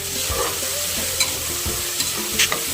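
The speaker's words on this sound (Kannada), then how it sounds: "ಚೆನ್ನಾಗಿ ಫ್ರೈ ಮಾಡ್ಕೊಳ್ತಾ ಇದ್ದೀನಿ." Ground tomato masala with coriander, mint and peas frying in a pan for tomato bath, a dense close sizzle with frequent scraping stirs and light clinks of the spoon against the pan.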